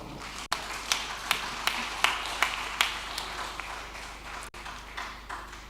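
An audience at a pitching session claps in a steady run of distinct, fairly evenly spaced claps, heard at moderate distance in an echoing hall.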